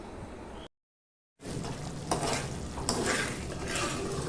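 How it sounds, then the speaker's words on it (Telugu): Sugar syrup for rava laddu is stirred on a low flame until the sugar melts, a close scraping swirl of spoon against pan with light clinks after a brief silent gap, no talking. "ఇక్కడ చక్కెర కరిగేంత వరకు అయితే ఇలా తిప్పుకోవాలండి"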